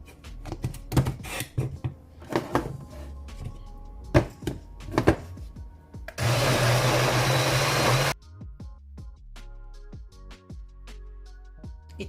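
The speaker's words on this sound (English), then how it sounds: "Gonna blend this away." A countertop blender whirs loudly for about two seconds, blending carrot, sweet potato and juice into a thick Jamaican strong back punch, framed by kitchen clatter and thunks before and after.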